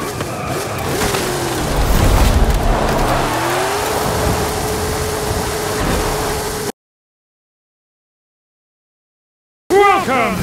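Porsche Cayenne engine roars during a video game race, a continuous loud drone with a rising then steady pitch, followed by a short silence and a burst of game sound.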